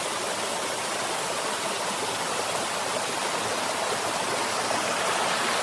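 Stream water rushes steadily along Sulphur Springs Trail at Paris Mountain, a dense, continuous broadband wash with no pauses and nothing else standing out.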